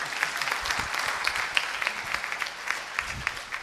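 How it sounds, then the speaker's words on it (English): A small indoor audience at a business Q&A session claps in a modest, scattered round of applause, moderately close and steady throughout, with no talking. "a wonderful round of applause to our moderator"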